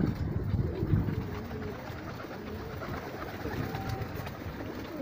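Young pigeon squabs in a loft on their first day out give soft, low cooing close by, mixed with rustling and a steady hum of background noise, with no talk.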